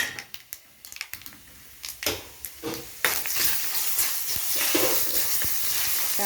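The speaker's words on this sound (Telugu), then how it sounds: "కొంచెం ఉద్దిపప్పు వేసినాను పోపులో" Urad dal and chana dal with dried red chillies dropped into hot tempering oil for a tomato chutney, first a few sharp taps and clicks, then a steady close sizzle that rises and holds to the end.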